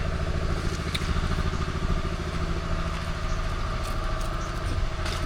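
A motorcycle engine runs steadily and close by, a continuous rumbling drone with an even pulse and no voices over it.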